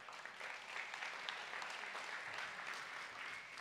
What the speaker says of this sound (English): Parents, you deserve an applaud for yourself.